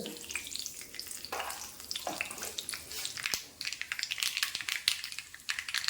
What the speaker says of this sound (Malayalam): കടുകെല്ലാം പൊട്ടി